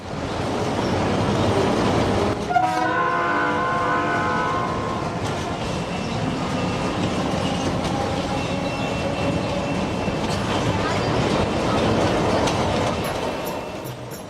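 A train to Canning in the Sundarbans region rumbles steadily with a rattling, clattering rhythm, a brief horn-like tone sounding near the start, loud and close throughout.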